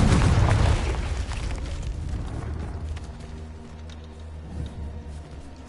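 Confringo fire spell from a Harry Potter video game: a loud, deep blast at the start that rolls off into a long rumbling tail with scattered crackles.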